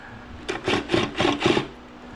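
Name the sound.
impact drill driving a bolt into a power chair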